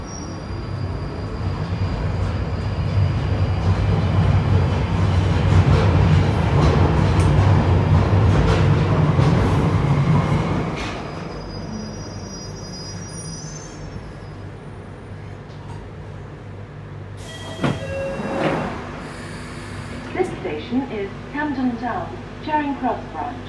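London Underground Northern Line train running through the tunnels: a loud, steady rumble for about ten seconds, then it drops to a quieter hum with a brief screech and an onboard voice announcement.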